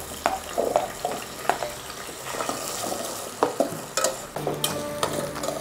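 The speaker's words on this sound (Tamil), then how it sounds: "இப்போ வெங்காயம் சேர்த்துட்டு நல்லா வதக்குங்க." Onions with cumin and fennel sautéing in a pan for agathi keerai sambar, with frequent spatula clacks and scrapes over a soft steady sizzle, close-up and uninterrupted by voices.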